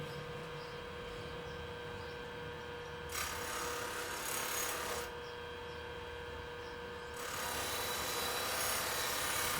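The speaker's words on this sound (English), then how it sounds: "I'm going to go ahead and just turn it on, put it on slow speed." A Harbor Freight 1x30 belt sander runs on slow speed with a steady motor hum. Two long, loud bursts of abrasive grinding come as an edge is run up and down the belt.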